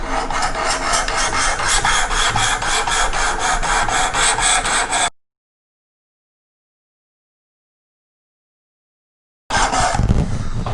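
A knife edge is drawn across a 320 grit abrasive on a WorkSharp Precision sharpener, making a loud, close, gritty rasping in rapid, even strokes. The sound cuts to silence partway through, then resumes briefly.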